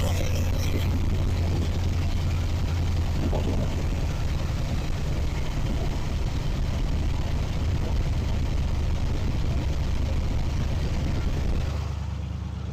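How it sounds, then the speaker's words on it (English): A truck engine idles with a steady low rumble and faint ticking, running continuously and close, easing off slightly at the very end. "So, starting the truck, this is what it sounds like."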